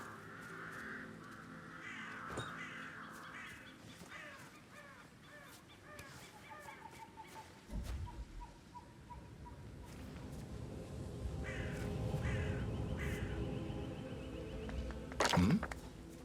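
Crows caw repeatedly in Hitman 3, scattered harsh calls rising and falling over several seconds against game ambience, with a louder burst of activity and a sharp thump partway through.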